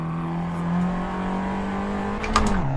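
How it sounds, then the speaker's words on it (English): A small car's engine in the racing game Assetto Corsa drones steadily at high revs, then its pitch drops as it shifts, loud and close, with no talking over it. "All the power seems to be at the top of the rev range in this little car."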